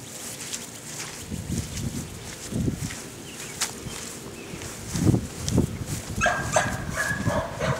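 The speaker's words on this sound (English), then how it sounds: "Goofy dog wants to get out and play." Dogs barking and whimpering while playing outdoors, one of them eager to get out, with scattered yips and huffs over wind and footsteps, fairly close.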